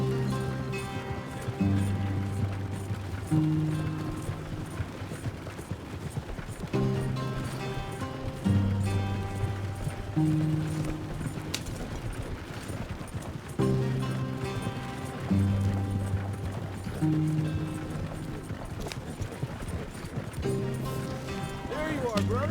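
A horse galloping in Red Dead Redemption 2, steady rhythmic hoofbeats under a sustained musical score, with the pattern repeating in cycles, moderately loud and close throughout.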